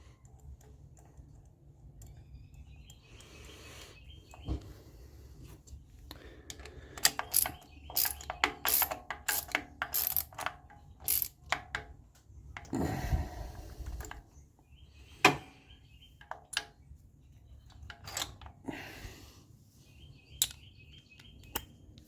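A ratchet with a magnetic socket works on the spark plugs of a 2008 Toyota Camry with a misfire, giving quick bursts of close metallic clicking separated by pauses and some clanks of handling.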